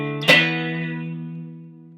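A single distorted electric guitar power chord from a song verse is struck once and left to ring, fading slowly over about two seconds, alone and close.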